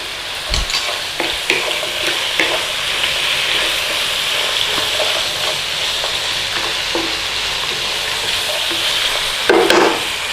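Chicken stir-frying in a hot pan with cashew nuts and chilli, a steady loud sizzle with scraping stirs throughout and a brief louder burst of frying near the end.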